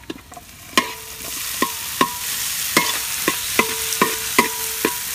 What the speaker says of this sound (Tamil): இதுல தக்காளி போட போறோம்